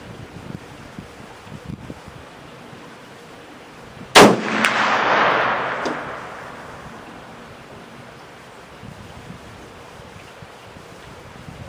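A single close, sharp gunshot from a Thompson Contender pistol in .300/221 firing a 168 grain AMAX load, followed by a rumbling outdoor echo that fades over a couple of seconds.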